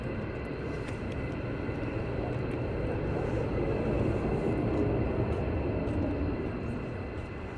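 Fighter jets taxiing at RAF Lakenheath, a steady, continuous low roar of jet engines heard from a distance, broad and rumbling throughout without clear breaks.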